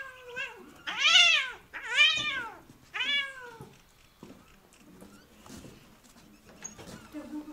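A domestic cat meows three times in quick succession, loud and close, each call rising and falling, followed by a few seconds of faint, quieter rustling sounds.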